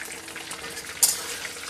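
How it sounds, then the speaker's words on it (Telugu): Brinjals (eggplants) fry in hot oil, giving a steady, soft sizzling hiss with a brief louder spatter partway through. "వంకాయలు అనేటివి బాగా మనం ఇలా నూనెలో ఫ్రై చేసుకోవాలి"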